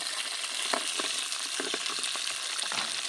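Food stirred in an electric boiling pot with mussels added, a spoon scraping gently amid steady sizzling and bubbling, close and continuous with a few soft scrape strokes, no talking.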